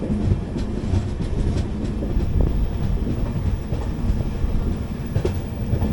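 Inside the 12777 Hubballi Kochuveli Weekly Express, an AC Economy coach, a steady loud rumble of the train running on rails carries faint rhythmic clickety-clack from the wheels, with no voices.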